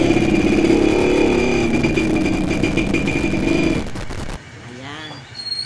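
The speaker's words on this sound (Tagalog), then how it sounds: "May dumating na tricycle." A motorized tricycle pulls up close among tightly packed houses, its engine loud and revving steadily, then cutting out abruptly near the end, leaving quieter background sounds.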